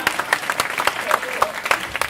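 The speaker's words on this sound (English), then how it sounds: "Fantastic, round of applause for yourself." Short burst of audience applause at an interview event, a dense patter of many hands clapping close by and fairly loud, running steadily throughout.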